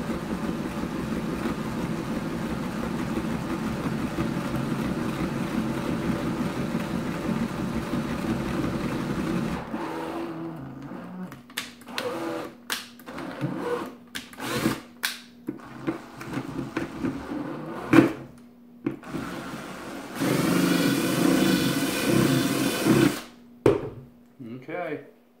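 A drill bit bores a half-inch hole with a steady, close mechanical whir for about ten seconds. Then comes a stretch of quiet talk and knocks, and a second short, louder burst of drilling.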